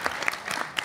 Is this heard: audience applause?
yes